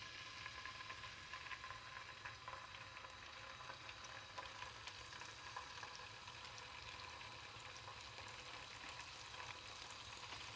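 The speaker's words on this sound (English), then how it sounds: "we should hear that sizzle" Continuous crackling sizzle of salmon frying skin-side down in hot oil, steady and close, without any talking.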